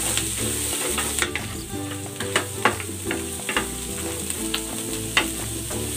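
Fried tofu sizzles in a pan with kangkong and adobo sauce, a steady bright crackle of frying broken by repeated knocks and scrapes of stirring, close and continuous with no talking.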